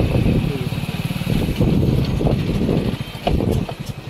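A small motorcycle rumbles along a farm track, its engine putting out a loud, uneven low chugging that pulses and fades throughout, heard close and outdoors; no clear horn stands out.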